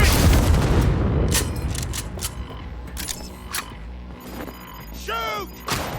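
Gunfire and explosions in the video game Cyberpunk 2077: a heavy booming blast decays at the start, followed by scattered sharp shots and clanks, with a brief whooshing sweep near the end.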